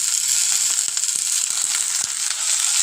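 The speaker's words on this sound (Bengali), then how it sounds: "দিয়ে খুব ভালো করে কিন্তু আমরা এটাকে ভেজে নেব" Sliced potato strips fry with lightly browned onions and a pinch of salt in a pan, a loud, continuous close-up sizzle broken by faint scraping clicks.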